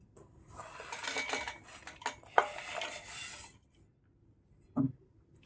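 Jaggery being stirred into a mango pickle mix of oil and spices in a metal pot: scraping, clinking spoon strokes for several seconds, then quiet and one last sharp clank.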